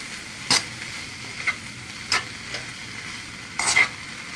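Peppers for ratatouille sizzle in a hot pan as a spoon stirs them, giving a steady low fry with a few sharp scraping strokes spaced about a second apart.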